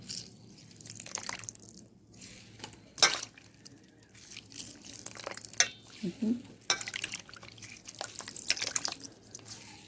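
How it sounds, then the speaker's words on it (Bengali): Soybean chunks are rinsed by hand in a pot of clean water, giving intermittent splashes, drips and sloshing in scattered bursts, close and fairly quiet. "দেখেন পরিষ্কার জল নিয়েছি, নিয়ে আমি আবারও ধুয়ে নিচ্ছি।"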